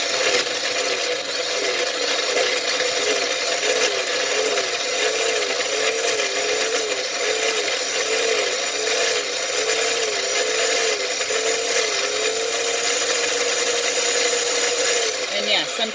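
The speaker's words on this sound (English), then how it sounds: "I'm going to pulse this just till I get the habanero to be like sand with the" A blender grinds habanero with sugar in a steady, loud, close whirring run with a gritty rasping edge and a faint pulsing wobble, holding throughout.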